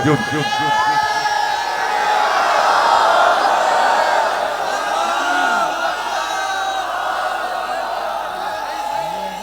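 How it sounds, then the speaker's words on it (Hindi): A large crowd at a religious gathering chants the Nara-e-Takbir slogan, a loud massed roar of voices, with a single voice calling over it. "पहले नारे तकबीर सुनाओ पहले मुझको"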